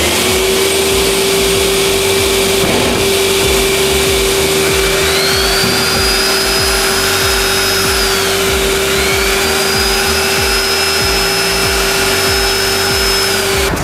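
A DeWalt DWV901L 30-litre, 1400-watt dust extractor vacuum runs loud and close with a constant whine. The motor pitch shifts upward partway through, then dips briefly and rises again.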